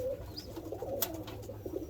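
Soft, low cooing from Birmingham Roller pigeons gathered in a loft, faint and continuous with a few repeated murmuring calls and no talking.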